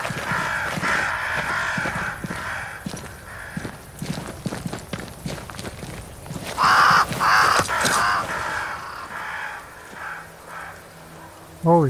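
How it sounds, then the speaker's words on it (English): Crows caw in Banishers: Ghosts of New Eden, harsh calls rising over steady rain and hoof clops in the game's outdoor scene, with people talking through much of it. "Crows. They flock to that great tree up there."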